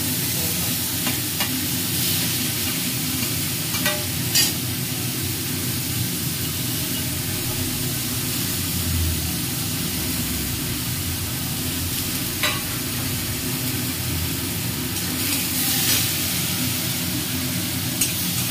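Amla (Indian gooseberry) pieces frying in hot oil, a dense continuous sizzle and hiss held steady and loud throughout, with occasional faint stirring scrapes close by.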